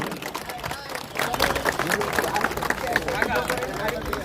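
Crowd clapping and applause at an outdoor cricket match held for former students of a high school, a steady burst of many hands starting about a second in and continuing throughout with crowd murmur beneath.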